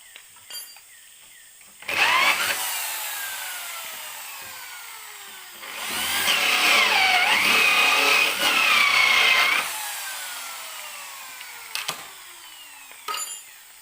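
A power drill whines loudly in two long bursts, grinding through bamboo, with a few sharp clicks and knocks between.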